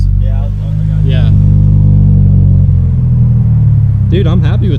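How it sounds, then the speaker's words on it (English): A Subaru BRZ with a cheap aftermarket exhaust idles loudly and rises into a brief rev, its deep rumble heard close. People talk briefly over the engine. "When it warms up, give it a couple revs."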